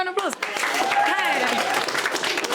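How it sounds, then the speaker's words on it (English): Studio audience applause for a friend watching an underwater magic stunt, a steady broadband wash of clapping with voices talking and calling out over it throughout. "Let's have a round of applause."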